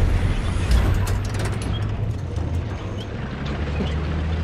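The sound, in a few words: tank driving in Far Cry 6 video game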